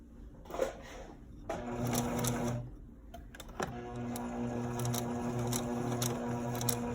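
A sewing machine stitches a sheer kimono jacket in close, steady whirring runs, with short pauses and small clicks between bursts and no talking.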